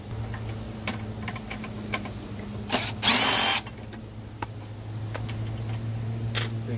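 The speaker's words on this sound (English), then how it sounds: "Now I'm going to have to take out two bolts, one here and here." Bolts are removed from a Toro Recycler lawnmower: scattered sharp metallic clicks and ticks over a low steady hum, with one brief loud burst of a power tool, all close by and without talk.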